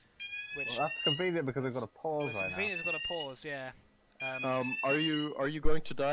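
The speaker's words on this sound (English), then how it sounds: "that is a fire alarm on my part" A fire alarm in a room beeps in steady, piercing electronic bursts while people talk continuously over it during a League of Legends match.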